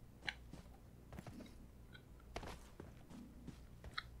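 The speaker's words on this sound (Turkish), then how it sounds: "Ayak sesi mi var lan?" Footsteps in the shooter game PUBG Mobile sound as scattered faint, crisp taps and scuffs at irregular intervals over a quiet background.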